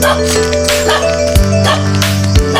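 Dogs barking along a rural uphill path, several loud sharp barks and yips close by over a constant engine-like hum.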